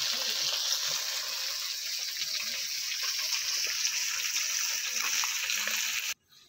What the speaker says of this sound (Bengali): সব মাছগুলোই আমি কড়াইতে দিয়ে দিয়েছি আর এরপর আমি এটা ভালো করে ভেজে নেব